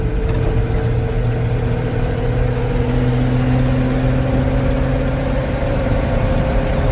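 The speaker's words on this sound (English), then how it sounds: "the engine sounds good" An old Chevy tow truck engine drones steadily while driving at about 30 to 40 km/h, a loud low rumble with a slowly shifting pitch and constant road noise.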